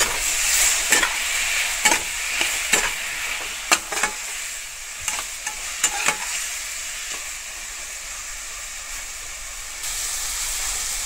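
Spices sautéing in a hot pan for a sweet-sour chutney of ripe mango, dates and cashews, a loud steady sizzle broken by sharp regular scrapes of a spoon stirring, close and without talk.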